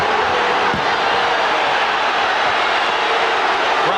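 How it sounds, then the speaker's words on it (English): Dense roar of an arena crowd at the 1993 NBA Finals Game 2 between the Chicago Bulls and Phoenix Suns at America West Arena in Phoenix; a loud, continuous wash of voices with no distinct breaks. "Crowd reacting."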